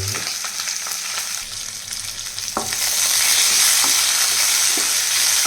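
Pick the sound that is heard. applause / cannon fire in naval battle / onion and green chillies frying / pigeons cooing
onion and green chillies frying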